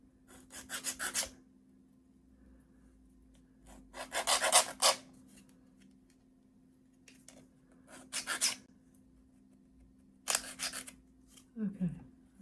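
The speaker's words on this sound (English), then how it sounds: "don't sand the wrong bit, Trace" Wooden book nook kit parts being sanded by hand in short, close, rasping bursts separated by quiet pauses, with a steady faint hum underneath.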